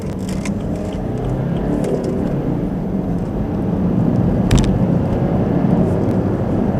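A BMW 1 Series F20 hatchback is driven briskly along a winding road, its engine droning steadily from inside the cabin with road and tyre roar underneath and the pitch rising slightly as it picks up speed.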